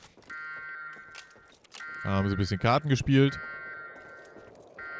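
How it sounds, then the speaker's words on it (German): A building alarm siren in the WWII shooter game Medal of Honor: Allied Assault sounds as a steady, buzzing electronic tone throughout, briefly masked while someone talks in the middle. "die gute alte Alarmanlage, man kennt sie"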